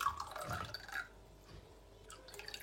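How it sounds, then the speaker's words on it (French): Water added to saffron in a glass, a soft close trickle and drip of pouring liquid over the first second, then quieter dripping and faint splashes. "Je vais rajouter un petit peu d'eau."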